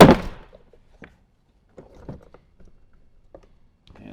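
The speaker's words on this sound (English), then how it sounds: "Go ahead and pull on the bottom of the door panel." A Toyota 4Runner door panel is pried loose: one sharp pop of a clip at the start, then a few faint plastic clicks and light knocks spaced over the next few seconds, close up and with no talking.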